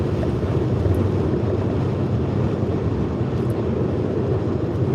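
A car cruising on the A28 motorway in the Netherlands, steady broadband road and wind roar inside the vehicle, constant and fairly loud.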